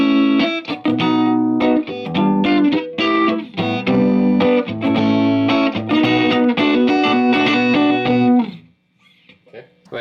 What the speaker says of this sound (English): you guys can hear this is a very standard Fender single coil sound